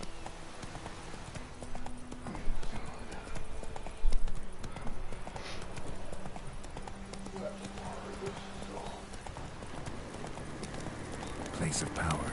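Horse hooves galloping in The Witcher 3, a rapid rhythmic clip-clop running the whole time with louder thumps early on, under game sounds and occasional talk.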